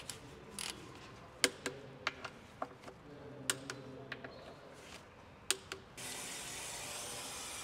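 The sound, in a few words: tightening bus gearbox bolts with a torque wrench to 23 Nm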